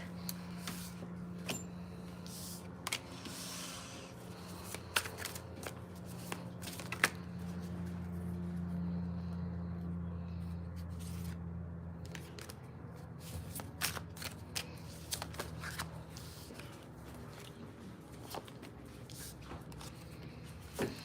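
Tarot cards are shuffled close up in quiet sporadic riffles and snaps over a steady low hum, in irregular bursts with short pauses between them.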